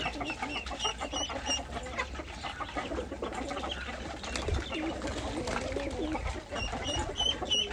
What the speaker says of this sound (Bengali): মোরগের লড়াই হবে এক্ষুনি।